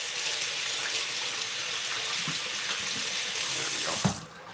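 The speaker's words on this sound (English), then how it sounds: "Let me rinse my hands off right quick." Kitchen tap water running steadily into a sink while hands are rinsed, a close, even splashing rush that cuts off abruptly near the end.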